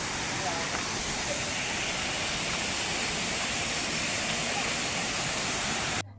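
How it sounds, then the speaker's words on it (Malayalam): A waterfall roars in a loud, continuous rush of falling water that fills the scene, then cuts off abruptly at the end. "ഈ പാല് പോലെ ഒഴുകുന്നോണ്ടാന്ന് തോന്നുന്നു വെള്ളം"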